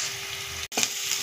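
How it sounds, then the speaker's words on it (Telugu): Onion and curry leaves sizzling in hot oil with seasoning seeds, a steady close frying hiss interrupted by a brief cut before the crackle resumes. "పోపు గింజలు అన్నీ వేసి ఆనియన్, కరివేపాకు కొద్దిసేపు ఫ్రై కావాలండి."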